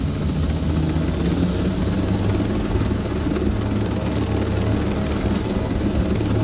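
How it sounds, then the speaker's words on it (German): In the Ghost Recon Breakpoint video game, a helicopter flies in with a loud, steady rotor and engine drone that holds constant throughout, heard alone and fairly close. "Der ist ja wieder im Hubschrauber, der kommt angeflogen."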